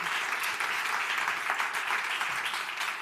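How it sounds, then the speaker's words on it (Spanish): A strong round of audience applause for speaker Laura Rojas Marcos closing her talk at a professional wellbeing event set, dense continuous clapping filling the room evenly and loudly throughout. "Laura Rojas Marcos, un fuerte aplauso."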